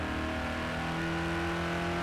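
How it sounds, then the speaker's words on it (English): A V8 car engine in a video game revs loudly and steadily for two seconds, a continuous droning roar with no voices over it. "how good does the V8 sound"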